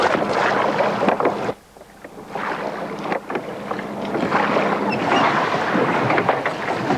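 An ancient-style Greek galley under oar and sail at sea, wind buffeting the microphone over rushing water and hull wash, loud and continuous with a brief lull partway through.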